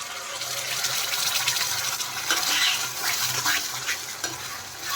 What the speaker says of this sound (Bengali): দিয়ে দেওয়ার পরে ভালো করে আমি কষিয়ে নেব।